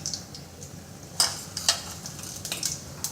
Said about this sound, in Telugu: నూనె వేడెక్కిన తర్వాత ఆవాలు,